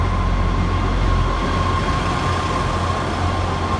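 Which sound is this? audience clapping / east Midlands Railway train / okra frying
east Midlands Railway train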